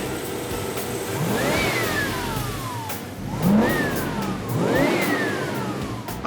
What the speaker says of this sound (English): I have this Apache purring like a kitten.